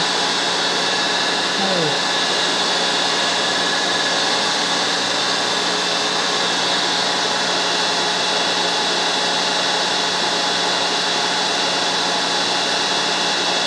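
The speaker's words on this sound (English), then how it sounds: "Everything on this milling machine works." DoAll milling machine running, a loud continuous motor whine and broadband hum that holds steady throughout, with a brief voice early on.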